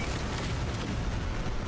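Starship weapons in No Man's Sky firing nonstop during a space battle against a swarm, producing a dense, roaring wash of blasts and bursts that never lets up.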